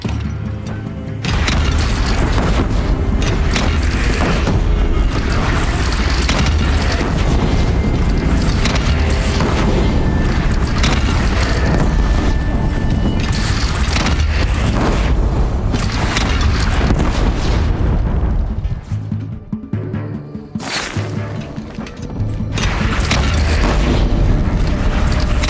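Heavy cannon fire and explosions from the video game Horizon Zero Dawn rumble loud and continuous in a battle against a bandit clan, with booming blasts, crashing debris and a brief lull near the end before the roar resumes.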